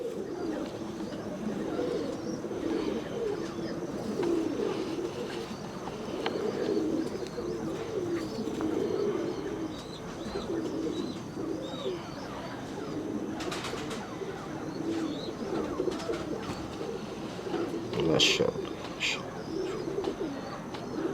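A flock of slate pigeons coos continuously in low, murmuring tones, with occasional wing flaps and faint chirps, while people talk quietly in the background.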